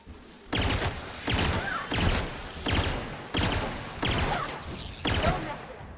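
Gunfire in The Outer Worlds comes in five loud, evenly spaced bursts of rapid shots, each lasting about half a second with short gaps between.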